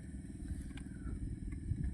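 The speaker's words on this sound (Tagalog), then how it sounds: "Gamit pag makina Honda 7 horsepower." A Honda 7-horsepower boat engine runs at sea with a steady, low, throbbing drone and a slight rattle, holding even loudness throughout without speech.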